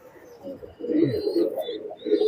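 Pigeons in a loft of high-flying birds give soft, low coos in short overlapping phrases, near and moderately loud, with faint higher chirps above them.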